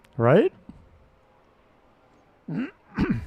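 A single sharp sneeze bursts out close by in a live on-air broadcast studio during a semifinal match, set among short bits of conversation.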